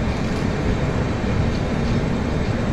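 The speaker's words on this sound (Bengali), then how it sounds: "আমাদের ট্রেন তার যাত্রাপথে 213 কিলোমিটার পথ অতিক্রম করে কুলটিতে এসে পৌঁছালো" A passenger train on the Howrah to Dhanbad line pulls into Kulti station with a loud, continuous low rumble and rolling rail noise, steady throughout and unbroken by voices.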